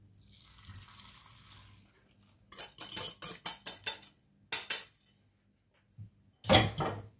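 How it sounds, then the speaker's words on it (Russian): A spoon scrapes and clinks around a pot of custard cream on the stove in quick, close strokes, followed by short pauses and a final burst of stirring. "Теперь помешиваем."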